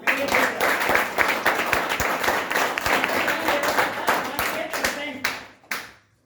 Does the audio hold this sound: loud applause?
yes